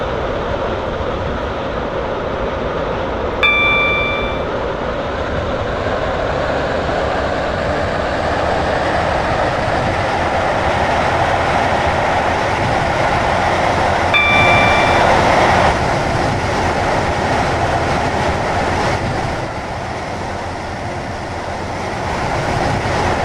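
A Class 331 electric multiple unit in the Stepford County Railway video game runs steadily along the line, a continuous loud rolling rumble with brief two-tone chime signals near the start and middle.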